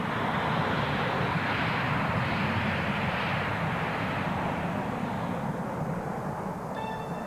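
Loud, continuous roar of an F-15 fighter jet's engines at full power as it takes off, steady and broadband throughout, accelerating down the runway.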